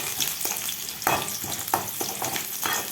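Onion and dried red chilies dropped into hot oil in a well-heated pan, giving a steady close sizzle and crackle with a few brief stirring scrapes and louder spatters.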